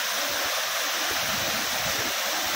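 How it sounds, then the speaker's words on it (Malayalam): A waterfall near a house in Kasaragod, Kerala, roars as a loud, steady, broadband rush of falling water, close and unbroken, with no voices. "നമ്മളെ വീടിൻ്റെ അടുത്തുള്ള ആ സുന്ദരമായിട്ടുള്ള വെള്ളച്ചാട്ടത്തിൻ്റെ അടുത്ത് അങ്ങനെ എത്തിയിരിക്കുന്നു."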